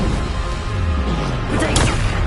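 A Bombarda blasting spell going off in the game Hogwarts Legacy, a loud broadband blast with a deep falling rumble and a sharp crackling burst near the end, dense and close throughout.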